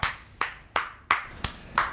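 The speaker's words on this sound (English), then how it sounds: "Just clap on the mic." Six sharp hand claps land close on a microphone in a steady rhythm, about three per second, each one loud and percussive with a short decay.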